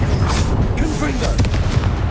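Repeated fiery spell blasts booming in Hogwarts Legacy combat on PS4, a dense run of thumping explosive hits with crackling bursts, loud and close throughout, with voices calling out underneath.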